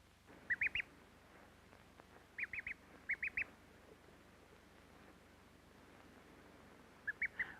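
A duckling in an imprinting experiment film quacks in four short bursts of about three calls each. The calls are clear but modest over faint film hiss, and the duckling is following a silent balloon.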